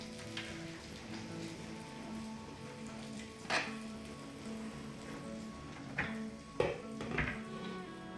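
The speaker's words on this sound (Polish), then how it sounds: "I pod przykryciem dusimy je, aż zmiękną" Dandelion stems stew in a covered pan with a soft, steady sizzle and bubbling. A few faint clinks and knocks of the lid or utensils sound now and then over the low, even simmer.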